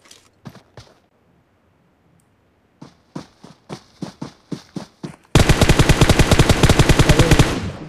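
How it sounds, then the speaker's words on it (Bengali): Gunfire in the mobile battle-royale game PUBG Mobile: a few scattered sharp shots, a brief lull, a steadier string of single shots, then a loud, unbroken burst of rapid automatic fire to the end. "ফায়ার করতেছে"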